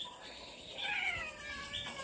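A cat meows several times in close, drawn-out calls beside a hammock outdoors at a rural home during a power outage, with mild background hum and no talking.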